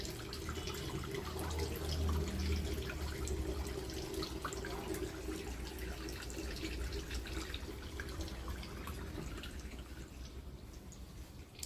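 A Samsung 9 kg 5-star Wi-Fi washing machine draining its water, a continuous rushing, gurgling flow that holds steady and close for the whole stretch, with no voices over it.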